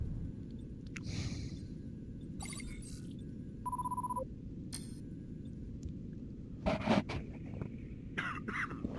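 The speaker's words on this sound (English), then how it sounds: "Got a little bit of a cough this morning." A man with a morning cough gives a short cough over the hum of a space game, which also has electronic beeps and a ringing tone in the background.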